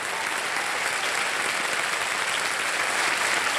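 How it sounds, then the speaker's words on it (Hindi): A television quiz-show studio audience claps steadily and densely throughout, a continuous close wash of applause with no talking. "तालियां बज जाएं के लिए"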